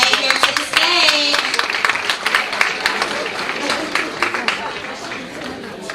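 An audience at a Women's History Month empowerment symposium claps steadily as speakers make their way to the stage, with scattered individual claps and crowd murmur throughout.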